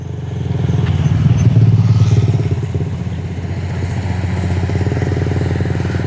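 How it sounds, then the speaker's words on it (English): A motorbike rides along a concrete path through rice fields in Hoi An, Vietnam, its engine putting out a steady, close rattling drone for several seconds that swells and then eases slightly. "And you see the motorbike there."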